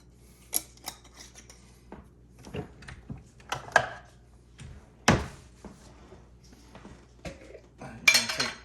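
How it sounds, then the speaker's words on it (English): A 3-in-1 salt, pepper and garlic seasoning container is shaken in a home kitchen, with scattered rattles and clinks and a couple of louder bursts against a quiet background. "we're going to use that seasoning that I like, which is the 3-in-1, the salt, pepper, and garlic. Give those a good shaking"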